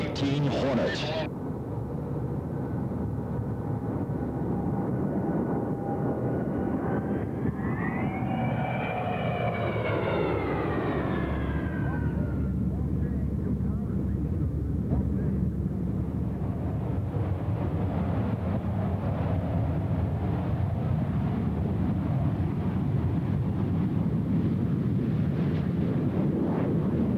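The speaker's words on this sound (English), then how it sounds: "a tactical demonstration by one of the most devastating aerial weapons that the United States fighting forces employ, and that is the FA-18 Hornet" An F/A-18 Hornet jet from VFA-125 at Lemoore Naval Air Station roars past at an air show, engine whine rising and sweeping as it passes, then fading into a broad rumble that lasts throughout.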